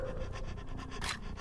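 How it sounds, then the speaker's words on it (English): A dog in the Cry of Fear video game pants rapidly and close by, a steady rhythmic breathing with a brief louder burst near the end. "I hear a dog?"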